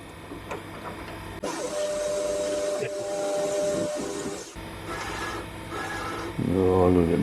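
A homemade lathe runs while cutting a chamfer on a turned part, a steady mechanical hum and whir with shifting tonal whines and a rising tone near the end, the machine droning throughout.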